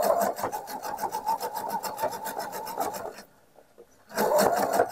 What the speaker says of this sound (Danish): Og sådan syr jeg så begge flæser på.